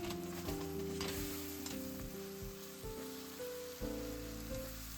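Pork sizzling and frying steadily over high heat in a pan, a continuous loud crackle with occasional stirring, no talk, for making ginger pork.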